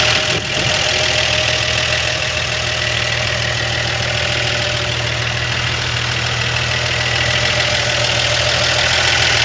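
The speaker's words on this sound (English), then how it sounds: "This is a lovely quiet engine." A 1955 Chevy 3100 short-bed pickup engine idles steadily and loudly close to the microphone, a continuous even rumble with a faint tappety ticking and no talk.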